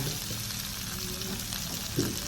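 Chopped onion and ginger sizzle in a hot frying pan for a pork and chicken adobo, a steady close frying crackle with a brief stirring clatter near the end.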